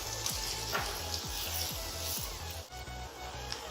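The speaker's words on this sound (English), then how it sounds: "We'll just let it fry for another 5 minutes." Chicken curry fries in a pan with a soft, continuous sizzle, broken by the faint scrape and knock of stirring.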